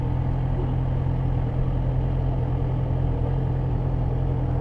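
Triumph Street Triple R motorcycle engine running steadily at low revs during a slow maneuverability course, a continuous close, dense rumble with no talk over it.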